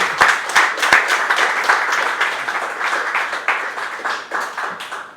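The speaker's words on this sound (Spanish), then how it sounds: "Un aplauso por favor para Percy Buchalvet." An audience at a literary presentation in Iquitos applauds a speaker: sustained, even clapping from a seated crowd, several sharp claps at the start, then a steady wash that tapers off over five seconds.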